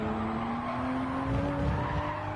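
Toyota Supra tyres skid and squeal in the Gran Turismo 7 racing game, a steady high tone over a loud engine drone, continuous through the moment with no voices.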